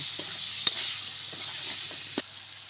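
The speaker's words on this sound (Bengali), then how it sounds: "স্বাদ মতো নুন, মতো হলুদ দিয়ে ভালো করে আগে আলুটাকে আমি ভালো করে ভেজে নিব।" Potato pieces frying in oil with salt and turmeric in a village kitchen, a steady close sizzle broken by a few sharp spoon taps and stirring scrapes against the pan.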